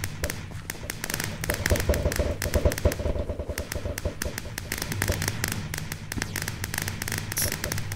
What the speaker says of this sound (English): Fireworks all over.